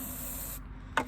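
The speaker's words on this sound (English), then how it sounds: "I'm gonna let you do the spray." An aerosol can sprays into a potato cannon, a steady close hiss that cuts off abruptly, followed by a short sharp burst.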